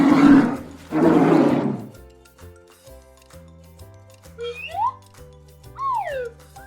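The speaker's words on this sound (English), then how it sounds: "bear, Bear. B-E-A-R. Bear." Bear roar from an animal sound showdown: two long, loud, harsh roaring bursts open the clip, then give way to soft background music with a few whistling slides.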